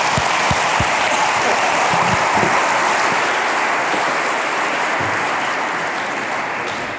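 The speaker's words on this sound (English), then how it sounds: "Please give them a big applause." Sustained audience applause for a departing panel at an awards event, a thick, even wash of many hands clapping at close range throughout, with a few low thumps early on.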